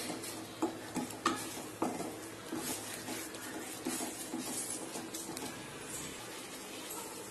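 Jackfruit halwa is stirred in a pan, a few soft knocks and scrapes of the spoon early on, then a quiet thick bubbling hiss that continues alone.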